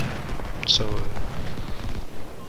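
Rumbling booms of artillery cannon fire rolling through a Civil War battle video game, dense low thuds layered over a voice talking throughout.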